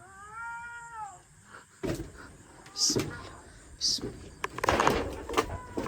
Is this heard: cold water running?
no